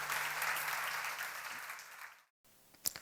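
Audience at a church Bible seminar applauding, a steady burst of clapping for about two seconds that stops abruptly, followed by quiet room noise and a few faint knocks.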